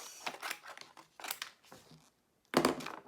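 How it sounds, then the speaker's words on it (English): Scissors cut paper for a handmade journal cover, making several crisp snipping and rustling bursts with short pauses between them and a louder final cut at the end. "I think I'm gonna have to cut this"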